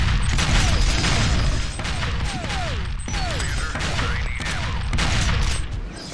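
Sustained gunfire in the video game Natural Selection, dense and loud bursts of shots rattling almost continuously with only brief gaps between volleys.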